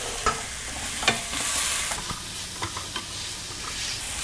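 Potatoes, drumsticks, carrots and beans for sodhi kulambu are stirred in a pot, with a continuous close sizzle and a few sharp spoon clacks against the pot, and no voices.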